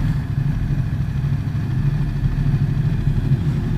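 A Ducati XDiavel motorcycle engine runs with a steady, loud low thrum on a ride, its pulsing rumble holding nearly constant throughout.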